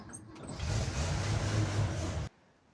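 A rusty old Holden Ute engine turns over and catches, running with a rough, loud idle for about two seconds before cutting off abruptly, with no one talking.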